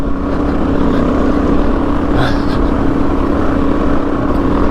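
A 2024 Suzuki DRZ motorcycle cruises along a track at a steady pace, its engine giving a loud, continuous drone mixed with wind rush, with no breaks and no voices.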